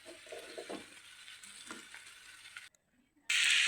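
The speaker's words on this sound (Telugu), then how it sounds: "కూరగాయలు పానం పెట్టి ఆయిల్ వేసి ఉల్లిపాయలు పచ్చిమిర్చి వేసానండి. వేపుతున్నాను." Onions and green chillies fry in oil in a pan over a village kitchen fire, giving a soft, steady sizzle with light stirring. The sound cuts to near silence and then ends in a loud burst of hiss.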